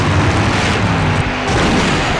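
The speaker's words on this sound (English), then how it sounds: "Now that's an explosion, ladies and gentlemen." A big, sustained explosion roar in the 1995 LucasArts PC adventure game Full Throttle, a loud continuous rumble with debris noise filling the whole stretch without break.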